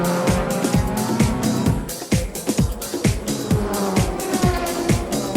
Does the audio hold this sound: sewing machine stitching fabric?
no